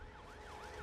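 Ambulance siren wailing in a rising and falling sweep at steady volume, heard faintly at a distance with no voices.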